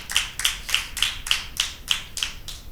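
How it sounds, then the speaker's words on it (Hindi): Team A is applauded at a Christmas Bible quiz in a girls' high school; a steady run of about nine even claps, moderately loud and close, with no talking. "टीम ए के लिए तालियां बजाएंगे।"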